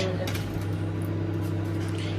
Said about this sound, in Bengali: মাইক্রোওয়েভটা চলছে তাই সেটার আওয়াজ হচ্ছে